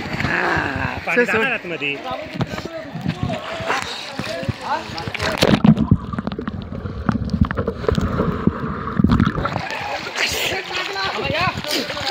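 Water splashes and sloshes into a small boat in loud, irregular bursts, close to the microphone with wind buffeting, while several people talk and call out excitedly over it.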